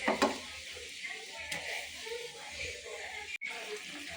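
Fried pabda fish goes into a pan of mustard gravy, giving a soft, steady sizzle and bubbling with a few light clinks, while a person talks over it.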